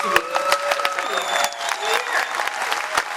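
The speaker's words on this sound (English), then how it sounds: "please stand up for a round of applause" Audience at a convention Q&A session in Las Vegas gives a standing ovation to actress Kate Mulgrew, with dense clapping and scattered cheers and whoops running steadily throughout, close and lively.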